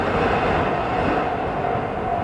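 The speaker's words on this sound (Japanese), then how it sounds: "このように線路がありますので電車が走ります。" A train rumbles past close by a residential balcony, a steady loud roar of wheels on the rails that continues throughout.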